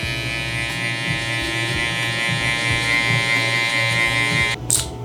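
Electric hair clippers buzz steadily and close up while cutting a fade, with the hum shifting slightly as the lever is worked and a brief click near the end.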